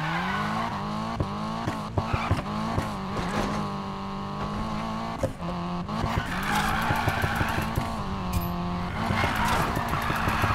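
Car drifting in the racing video game Need For Speed Payback, with continuous engine roar and repeated tire skids and squeals, mixed under game music, loud and steady throughout.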